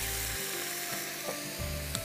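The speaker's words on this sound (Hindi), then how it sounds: "इसमें आपने शिमला मिर्च डाली और आपने इसमें गाजर शामिल किया और आप इसको सॉटे करिए" Capsicum and carrot strips sauté in a hot pan, giving a steady, close sizzle with a soft stirring texture and no talk over it.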